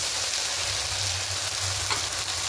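Ginger, garlic and green chili paste frying in a pan makes a continuous, fairly loud hiss that stays even throughout, with no voices.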